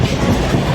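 A train rolling along railway tracks near Bombay gives a steady, loud rumble with a rhythmic clickety-clack of wheels over rail joints, heard close and continuous without talk.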